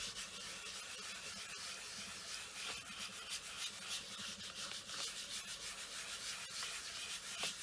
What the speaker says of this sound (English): I'll give it a burnish first just to make sure there's no lumps or bumps anywhere.